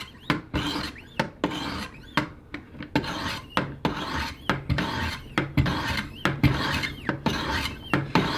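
Knife blade drawn along a 600-grit stone on a Wicked Edge Go sharpening system, about a dozen close, loud, rasping strokes in a steady back-and-forth rhythm with short pauses between.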